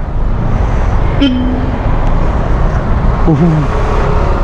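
Dense road traffic in Cavite with a large truck among it, a steady loud roar of engines and tires with a couple of brief tonal horn-like whines; people talk faintly over it.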